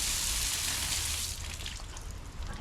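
Water spray rinsing a 2017 Porsche 911 Carrera S wheel, a loud close hiss of gushing water that eases off after a second into splashing and dripping.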